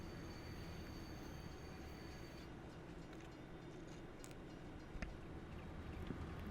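Train rumbling along in Farming Simulator 22, a steady low rolling drone with faint high squeals and a couple of brief clanks near the end, heard alone.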